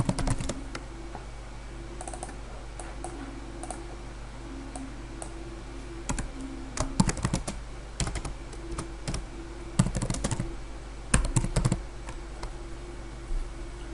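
Keys on a computer keyboard being typed in irregular bursts while text is entered in Adobe Premiere, clicks close and moderately loud over a steady low hum.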